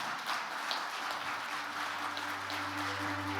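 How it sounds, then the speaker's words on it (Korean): Audience applause at the 60th anniversary ceremony of the Korean Commercial Arbitration Board as staff are welcomed onto the stage, a soft, steady patter of clapping heard at a distance, with a low hum emerging near the end. "여러분의 큰 박수로 맞이해 주시기 바랍니다"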